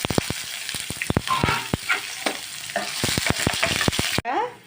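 Onions, green chillies and dried red chillies frying in oil with dals, cumin and mustard seeds for semiya upma, crackling sizzle with rapid popping spatters, close and loud, ending abruptly.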